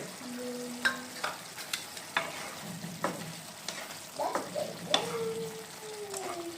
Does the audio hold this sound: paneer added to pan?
yes